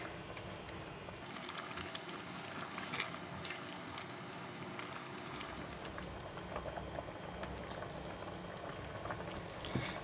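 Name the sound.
soup boiling in pot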